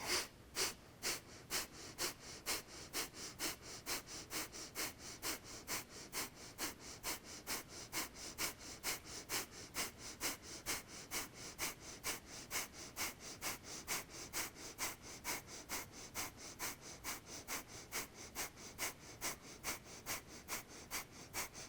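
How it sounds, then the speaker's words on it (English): Breath of fire yoga breathing: quick, forceful, rhythmic nasal exhales repeating steadily at close range, each a sharp whooshing puff, continuing without pause. "ujjayi or breath of fire"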